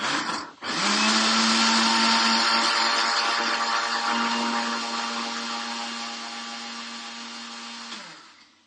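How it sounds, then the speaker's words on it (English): A loud kitchen blender whirs steadily as it blends a raspberry lemonade smoothie, running for about seven seconds after a brief start-up dip, then winding down at the end. "So this is our loud blender."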